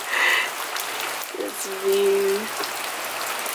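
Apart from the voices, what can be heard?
rain falling outside a rainforest balcony in Costa Rica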